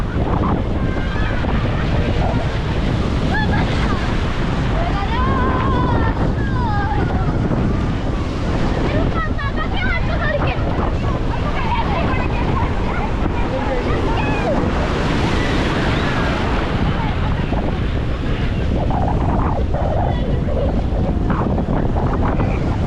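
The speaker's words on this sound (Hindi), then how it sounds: "आज की लहरें भी कुछ ज़्यादा ही तेज़ है और तेज़ हवाओं के साथ लंबी लंबी लहरें भी आ रही हैं" Strong waves and gusty wind on Puri beach, a constant loud roar of surf with wind buffeting the microphone, no clear voices.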